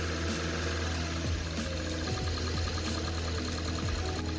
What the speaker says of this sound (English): run the engine at a higher RPM, say about 2000 RPM, until it wants to idle smoothly on its own